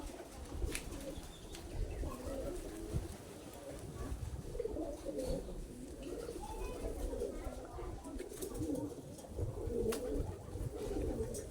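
Pigeons or doves coo softly and repeatedly at a distance by the water at Wang Matcha in Yasothon, under steady outdoor ambience and someone talking.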